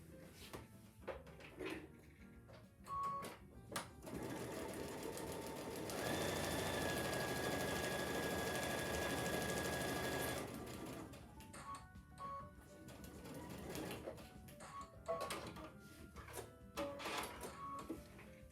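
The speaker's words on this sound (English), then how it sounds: "now we're sewing on line number 3" A sewing machine stitches a quilt seam for the Flower Through Lattice panel, running in one steady, continuous whir for about four seconds mid-clip, with fabric handling and light taps before and after.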